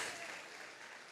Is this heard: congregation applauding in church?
yes